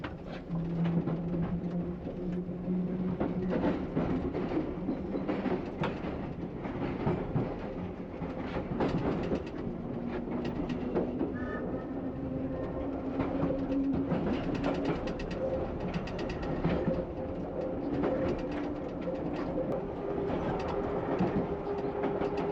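A London Underground Piccadilly line train running eastbound on surface track near Hammersmith and Barons Court, heard from the cab: a steady rumbling roll with rail clatter and a rising motor whine, continuous and fairly loud throughout.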